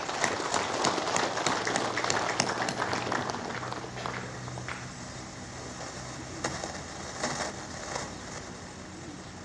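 Audience applause at the 19th anniversary ceremony of West Manggarai Regency, a dense, fairly steady wash of clapping lasting throughout, moderately distant with crowd noise beneath.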